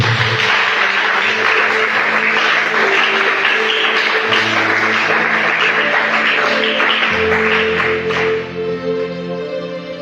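A church congregation applauds and cheers in praise of the Lord, steady dense clapping with voices running the full length, close and loud, easing slightly at the very end as music tones sustain underneath.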